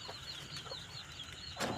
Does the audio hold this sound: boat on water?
no